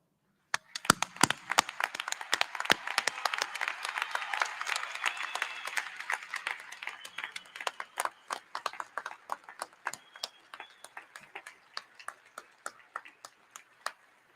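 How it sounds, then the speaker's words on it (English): A graduation ceremony audience claps together in a dense burst of applause that thins out into scattered individual claps before fading. "Will all our graduates please stand for a round of applause?"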